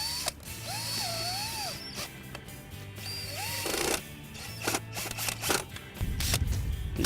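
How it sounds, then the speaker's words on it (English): Screws driven into a Bestop Supertop NX soft top on a Jeep Wrangler, heard as close mechanical whirring and ratcheting in short bursts with clicks between them. "You put the screws in that come included with the kit."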